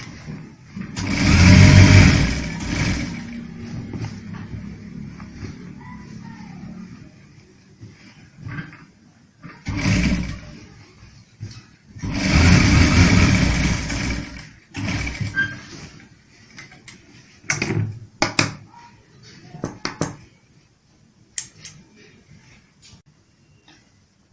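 A sewing machine stitches the back of a kurta in several loud, close bursts of whirring mechanism, some long and some short, separated by quiet pauses and followed by brief clicks and handling sounds.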